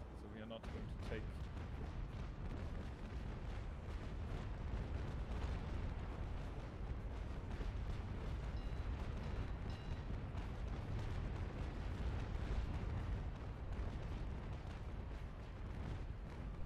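Cannon fire in the naval battle game Naval Action, a dense, continuous rumble of booming shots that stays loud and steady under voices talking.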